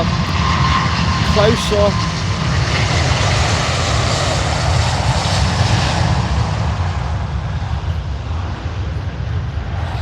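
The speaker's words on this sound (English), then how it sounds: "A380, the biggest plane in the world." Emirates Airbus A380 jet airliner departing Manchester Airport, a loud, steady engine roar filling the whole stretch while someone talks briefly over it.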